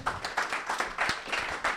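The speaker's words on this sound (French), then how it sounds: "Merci Tom, on peut l'applaudir." A small audience claps at a French talk event, a brief, fairly quiet patter of scattered hand claps with uneven rhythm that lasts only a moment.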